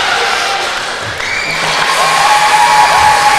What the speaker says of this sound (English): Still cheering on, a clap.